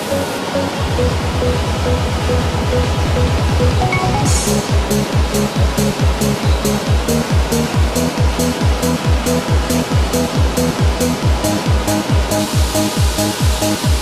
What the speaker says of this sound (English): Root veg such as potatoes, carrots and parsnips are washed to remove soil, stone, insects and other contamination.